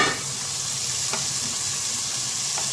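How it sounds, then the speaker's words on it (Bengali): Onion and green chili sizzle steadily in a hot pan as they are stirred for a fish egg curry, a dense continuous frying hiss with a few faint scrape ticks. "পেঁয়াজ আমি দিয়ে দিয়েছি, গ্রিন চিলি দিয়ে দিয়েছি। তো এটা ভালো করে আমি একটু নেড়ে নেবো।"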